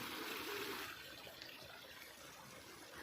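Water pouring out through a sluice gate by a village on a Sundarbans riverbank, a steady rushing flow heard from a distance and fairly faint, slightly louder at first.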